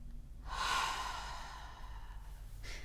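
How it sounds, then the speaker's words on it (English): One deep, audible breath drawn in and then slowly let out close to the microphone, a soft airy rush lasting a couple of seconds, followed by a brief quieter breath. "Let's all take a deep breath in"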